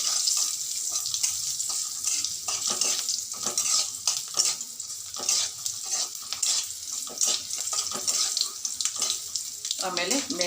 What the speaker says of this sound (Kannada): ಗೋಡಂಬಿ ಹಾಕ್ತಾಯಿದ್ದೀನಿ, ಗೋಡಂಬಿ ಸ್ವಲ್ಪ ಕೆಂಪಾಗಲಿ